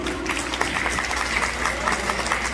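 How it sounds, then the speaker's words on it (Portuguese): A crowd applauds steadily at an anniversary ceremony in Lago do Junco as a governor signs an irrigation kit donation, with moderate, continuous clapping and faint background murmur. "Vamos aplaudir, pessoal."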